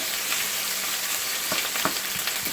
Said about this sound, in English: So I'm going to saute these onions, the garlic and the ginger together.